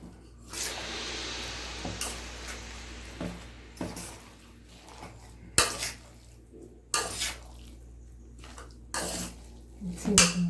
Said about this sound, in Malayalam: ഒരു ഫോർക്ക് യൂസ് ചെയ്തിട്ട് നമുക്കിത് മിക്സ് ചെയ്യാം